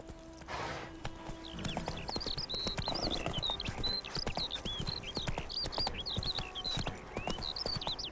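Roach the horse's hooves clip-clop steadily in The Witcher 3, a brisk, even rhythm close up that runs the whole time, with birdsong chirping above it and no talking.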